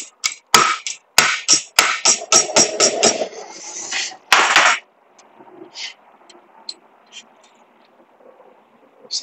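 Flat metal flower petal clamped in a vise and bent over, giving a loud run of sharp metallic knocks and taps for about five seconds, then sparse quieter clicks and handling noise.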